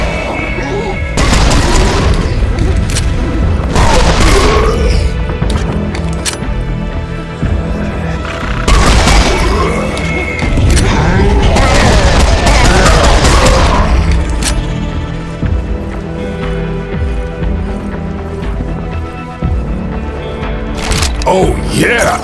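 Serious Sam 4 combat with heavy gunfire and explosions: repeated loud booms and bursts of shots roll through dense, constant battle noise, swelling and easing in waves.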